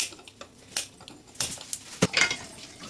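Chili powder being stirred into oil in a pan, a spoon scraping and clinking against metal in irregular strokes, close and clear with no talk.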